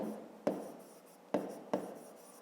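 A pen writes on paper while working a fifth-grade maths exercise, making three sharp strokes that each fade into soft scratching. The sound is close and quiet, with no voices.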